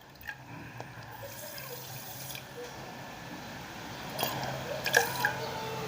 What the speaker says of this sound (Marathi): तर त्याच वाटीने हे बघा अर्धी वाटी मी पाणी ओतणार आहे